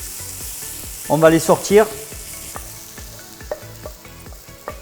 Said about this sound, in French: Une fois que les oignons et les champignons sont bien caramélisés